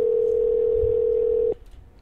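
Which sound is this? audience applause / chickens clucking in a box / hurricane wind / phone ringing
phone ringing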